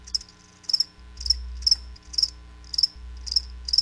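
Crickets chirp in short, high trilling bursts, about eight evenly spaced pulses repeating roughly twice a second, clear and close against a quiet background.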